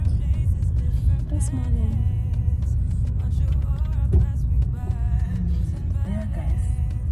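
Steady low road rumble inside a car on the drive to work, continuous and moderately loud, with voices talking over it.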